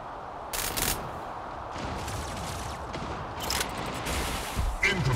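Gunfire from mechs in the Mech Arena video game: sustained rattling bursts and sharp cracks layered over a constant mechanical rumble, with a brief synthetic alert tone near the end.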